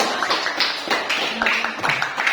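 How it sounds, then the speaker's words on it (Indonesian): Students in an Indonesian eighth-grade mathematics classroom clap their hands in a short, uneven burst of rhythmic patting, close and fairly loud, with a few voices mixed in. "Oke, tepuk tangan dulu semua."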